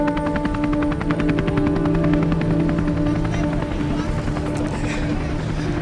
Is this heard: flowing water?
no